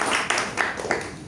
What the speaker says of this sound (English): one more round of applause to our Toastmasters